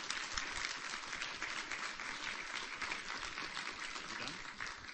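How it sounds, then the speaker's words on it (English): An audience claps for a graduating class at a fall final presentation, a sustained, fairly soft patter of many hands that stays even across the whole stretch. "Round of applause, please."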